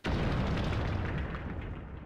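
A loud explosion in the video game SAO Re: Hollow Fragment, an abrupt broadband boom that starts at once and rumbles on, slowly fading over two seconds with no voices.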